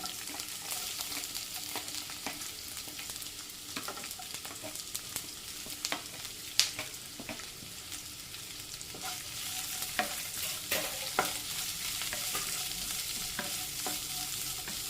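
Sliced onions frying in hot oil with pieces of roasted coconut for a tender jackfruit masala, giving a steady close sizzle with repeated scraping clicks from stirring, and no talking.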